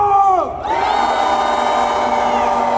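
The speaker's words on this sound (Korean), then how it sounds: "전방을 향해 함성!" A crowd at a political rally roars a sustained collective shout, loud and close, the massed voices swelling after a brief dip and holding steady to the end.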